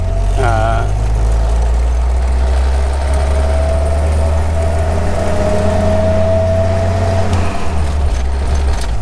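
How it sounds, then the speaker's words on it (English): A 1951 Willys Jeepster Phaeton's engine runs loud and close with a steady low rumble and a faint rising whine as it pulls away in second gear. "We're starting in 2nd gear."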